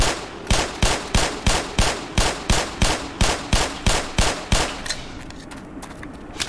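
Pistol shots in the video game Black Mesa: about fourteen loud, evenly spaced shots fired in rapid succession over five seconds, then a quieter, softer tail with no talking.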